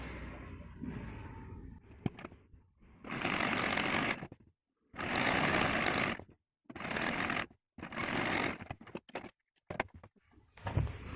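Sewing machine stitching along the folded edge of a sleeveless top's neck binding, running in several loud, steady bursts separated by short pauses, with faint handling sounds between runs.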